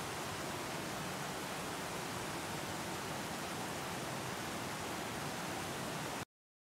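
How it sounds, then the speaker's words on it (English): Dense, steady roar of a waterfall, a constant broadband rush of falling water with no other sounds. "A cascade of water falling from a height."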